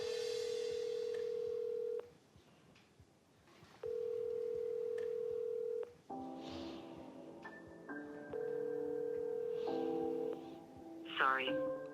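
Telephone call being placed: steady dial-tone beeps in long repeated bursts, then a ringback tone with layered notes, near and clear, with a brief voice at the end.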